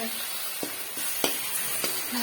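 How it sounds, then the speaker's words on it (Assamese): Bitter gourd and fish frying in a pan over a low flame give a steady close sizzle, broken by a few soft clicks and taps from stirring. "মই আকৌ পানী অকণমান দিম আৰু অকণ ভাজি লৈছোঁ"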